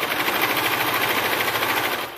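A sewing machine top stitches a folded fabric strap closed on a bra make, running as one steady, fast, continuous buzz at close range with no talk.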